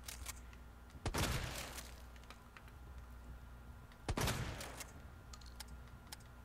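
Gunfire in the Resident Evil 2 Remake demo: two sharp, loud shots about three seconds apart, each with a short rumbling tail, over a quiet low game hum.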